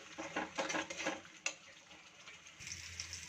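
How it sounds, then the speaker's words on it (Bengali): Spices with coriander powder being sautéed in a pan for a chicken fry gravy, heard as quiet scraping stirs and a sharp metallic clink over a faint low sizzle, close but soft. "এবার এই সব মশলাগুলোকে খুবই ভালোভাবে কষিয়ে নেব যাতে কাঁচা গন্ধটা চলে যায়।"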